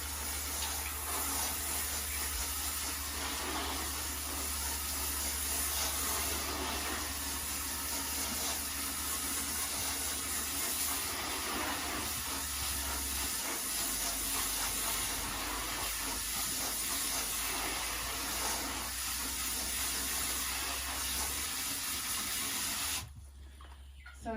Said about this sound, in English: Now I'm just going to spray it down.